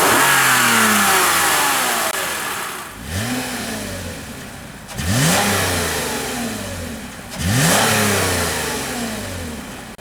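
A 2013 Lexus ES350 engine revved three times in succession, each rev sweeping up sharply then winding back down to idle, recorded close under the open hood with no talking.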